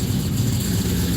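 Pontiac GTO engine idling at a Cars & Coffee meet, a steady, loud, rumbling low burble with a lumpy, uneven pulse throughout one second.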